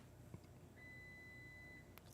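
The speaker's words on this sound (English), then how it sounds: "I hear my dishwasher being done." A dishwasher's finish signal: one steady electronic beep held for about a second, quiet and heard from a distance against a faint room hum, with a small click before it.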